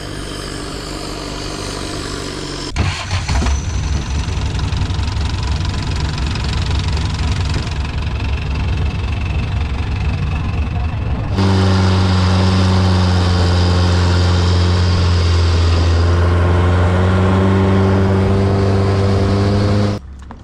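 A small boat's engine in Thailand, a loud, steady mid-pitched drone that runs close and unbroken, shifting pitch as the throttle changes partway through, with no talking.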